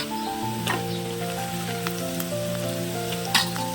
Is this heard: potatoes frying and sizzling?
yes